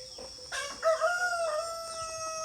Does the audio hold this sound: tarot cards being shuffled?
no